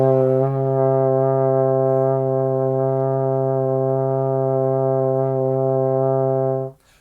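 A single sustained trombone note, C in sixth position, held steady for several seconds, rich and brassy, before it cuts off at the end.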